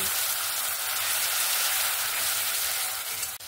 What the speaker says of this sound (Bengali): এবার ভালো করে পেঁয়াজের আর টমেটোর সঙ্গে ভালো করে কষিয়ে নেব।